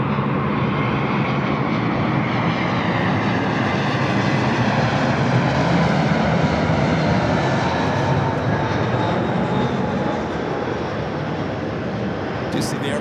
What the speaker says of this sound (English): Let's head to our next arrival, another JetBlue